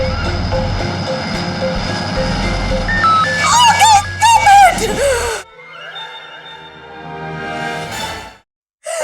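A voice imitates an airplane landing and taking off with rising and falling whooshing, whistling tones, loud and close, amid a noisy indoor scene from a Hindi TV serial, followed by quieter sustained vocal tones.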